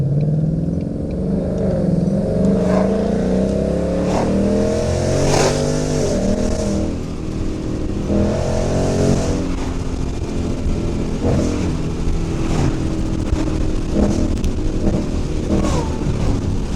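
A Ford Mustang GT engine rips through a hard acceleration pull on a rainy road, a loud, close roar that climbs through rising revs with a brief dip at a gear change, continuing strong and steady.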